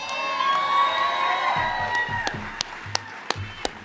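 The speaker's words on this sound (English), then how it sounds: "let's have a round of applause for Chandra" At a recovery-community convention, an audience cheers and whoops loudly at first, then the crowd noise fades into scattered sharp hand claps over the final seconds.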